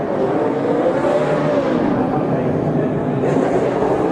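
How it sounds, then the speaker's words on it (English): A NASCAR Cup Series race car doing a burnout: a loud, steady roar of engine and spinning tyres holds for the full length, with a crowd or commentator wash blended into the dense noise. "And he's got enough fuel to do a burnout"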